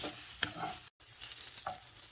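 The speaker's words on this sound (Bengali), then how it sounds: "তো দেখুন পেঁয়াজটা প্রায় ভাজা হয়ে এসেছে" Sliced onion fries in hot oil in a pan while a spoon stirs it, giving a steady sizzle broken by scraping strokes, with a brief gap midway.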